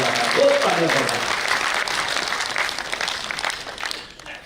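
An audience at a customer meeting in Vrindavan, Uttar Pradesh, applauds in a dense, steady wash of clapping that holds for several seconds, then thins out toward the end.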